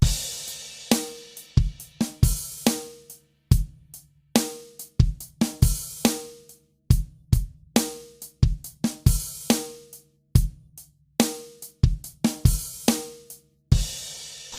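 A full drum kit plays a steady groove: punchy kick and snare under ticking hi-hat, with washy crash cymbal hits ringing out at regular turnarounds.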